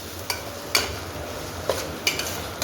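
Pumpkin roasting in ghee over a medium flame, a faint sizzle under about half a dozen sharp clinks and scrapes of a spoon stirring against the pan.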